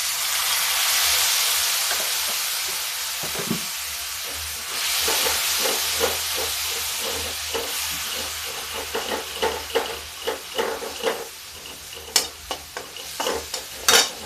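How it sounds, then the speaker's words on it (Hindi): Hot water hits a hot pot of dal with a steady sizzling hiss, followed by clinking stirring sounds and bubbling as the liquid settles in. "ये थोड़ा सा मैं गर्म पानी डाल देती हूँ"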